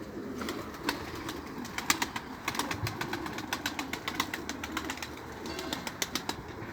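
A Mardin pigeon circles overhead without landing, its wings clapping in rapid sharp bursts over a quiet outdoor background, with faint cooing between the flaps.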